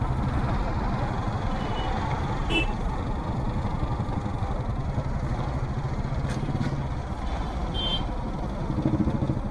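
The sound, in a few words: city road traffic heard from a motorcycle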